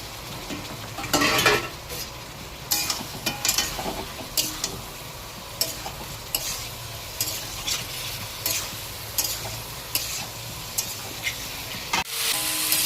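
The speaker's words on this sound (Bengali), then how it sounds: "এবার আলু ফুলকপিগুলো দিয়ে একটু কষাবো" Potatoes and cauliflower sauté with spices in a hot pan, a steady sizzle broken by regular scraping strokes of a spoon stirring, close by, with a clatter near the end.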